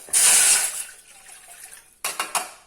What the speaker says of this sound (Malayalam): വെള്ളം ഒഴിച്ചിട്ട് ഇത് ഇങ്ങോട്ട് വെച്ചിട്ട് ആവി കയറ്റാം